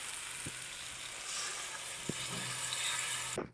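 Spices tempering in hot oil sizzle steadily and close up, with a few faint clinks of a utensil, building slightly before the sizzle cuts off sharply at the end; no voices.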